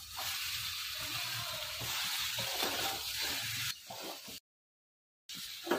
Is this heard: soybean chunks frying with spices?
yes